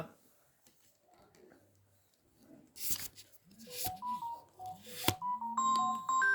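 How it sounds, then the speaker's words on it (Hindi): A phone call coming in, heard as electronic dial-tone-like beeps and a melodic ringtone that grow louder toward the end after a quiet stretch with faint background sounds. "ये देखिए फ़ोन आ गया"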